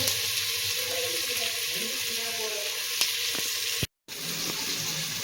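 Onions sauté with salt in a pan for paneer pulao, a steady close sizzle with occasional stirring clinks and faint background voices, broken by a brief dropout near the end.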